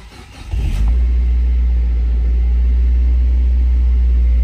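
A 2002 Mazda Miata Special Edition engine cranks briefly and catches, then settles into a loud, steady, deep idle heard up close, with no talk over it.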